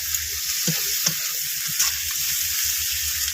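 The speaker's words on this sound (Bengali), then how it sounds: "পেঁয়াজ রসুন দারচিনি এলাচ লবঙ্গ কাঁচা লঙ্কা আর একটু পাঁচফোড়ন তেজপাতা দিয়ে একটু ভালো করে একটু ভাজা ভাজা করে নিচ্ছি" Onion, garlic, cinnamon, cardamom, cloves, green chili, panch phoron and bay leaf fry in a pan with a steady, loud, close sizzle, broken by a few soft taps of stirring.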